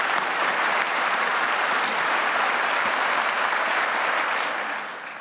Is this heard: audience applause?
yes